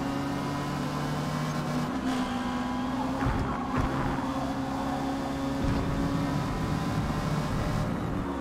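Race car engines drone loudly at high revs through a D-class race, steady and continuous, with a few pitch shifts as gears change and cars close in around the listener.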